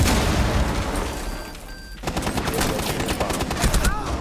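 Gunfire in the video game Rainbow Six Siege: a burst of loud, rapid shots in the second half, following a quieter stretch with a faint tone, and players can be heard talking throughout.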